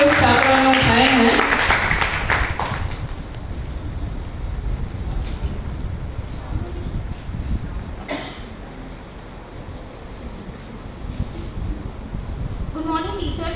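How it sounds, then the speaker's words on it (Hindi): Audience applause at a women's college youth event, a sustained wash of clapping that rises right after a brief stretch of speech and carries on evenly, fairly loud, to the end. "तालियां आप अच्छी सी बजा सकते हैं"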